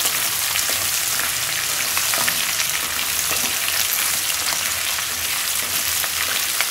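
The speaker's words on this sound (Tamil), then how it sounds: "இப்போ வந்து இதில் வந்து முள்ளங்கியை போட்டுக்கிறேன்" Radish pieces sauté in hot oil in a pan for sambar, giving a steady, dense sizzle that stays close and even throughout with no talking.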